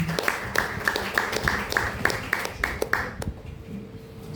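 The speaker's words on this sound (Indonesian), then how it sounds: "Sebelumnya mohon berkenan untuk tepuk tangannya sekali lagi." Audience applause at an Indonesian school principals' seminar on emotional and spiritual management, a brief round of clapping that tapers off after about three seconds into quiet room tone.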